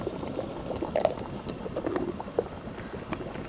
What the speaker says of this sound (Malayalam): തേങ്ങാപ്പാലൊക്കെ നല്ലതുപോലെ തിളച്ച് മറിയുന്നുണ്ട്